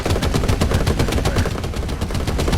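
Rapid, dense gunfire and explosive cannon blasts from a tank battle video game, loud and continuous with barely any gap between shots.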